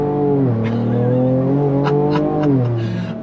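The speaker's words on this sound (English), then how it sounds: "I love how this truck accelerates." A 2024 Ford Ranger Raptor pickup on 33-inch off-road tires pulls hard under throttle, its engine note climbing steadily through the rev range with a brief dip at a gear change, loud and close from inside the cab.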